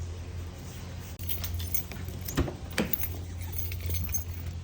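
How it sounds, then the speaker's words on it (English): Car keys for a 2011 Dodge Charger jangle in a hand, a few bright metallic clinks over steady low engine-like hum, close and moderately loud. "Keys in my hand."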